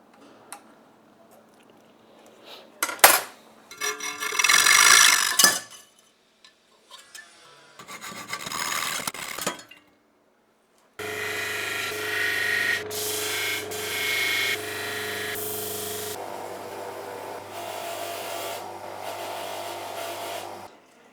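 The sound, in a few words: grinding anodizing off an aluminium back panel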